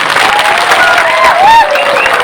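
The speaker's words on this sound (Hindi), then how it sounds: "रतीश बाबू को ताली दीजिए" Dense clapping from a crowd at a political rally in Tripura, with a few shouts and whistles mixed in, loud and steady for a couple of seconds.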